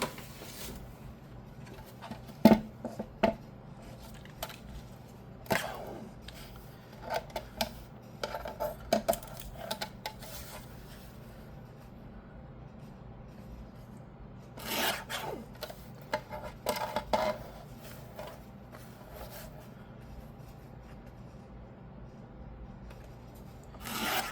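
Magazine paper cut with a small paper trimmer in a quiet room: scattered short scraping slices and rustles come in clusters with pauses between, close but soft, no talking.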